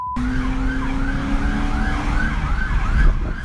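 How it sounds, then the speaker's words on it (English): Police sirens wail and warble continuously from several directions over the rumble of a speeding car engine during a police chase, loud and close. "You can hear the sound of sirens coming from seemingly all directions."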